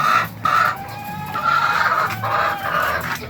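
Sixteen-week-old ready-to-lay hens in a flock of 96 clucking close by, overlapping drawn-out and choppy calls forming a steady chorus with no talk.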